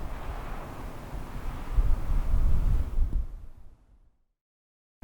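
Cold wind on a snowy Colorado mountain at about 11,000 feet in winter, a loud, low buffeting roar against the microphone that gusts and swells for several seconds, then cuts off abruptly into near silence.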